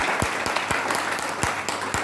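A congregation applauding during a Good Friday service at GBI Bethany church, with brisk, evenly spaced rhythmic claps standing out over a continuous bed of many hands clapping.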